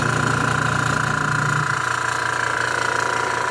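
An airbrush compressor building up pressure runs with a loud, steady mechanical drone and hum, partly desk vibration, its low rumble easing slightly partway through.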